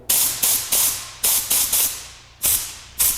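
Tornador 007 Mini air-powered cleaning tool fed by a compressor at 60 to 90 psi, blowing compressed air in eight sharp, loud hissing bursts, each fading quickly, in an uneven rhythm.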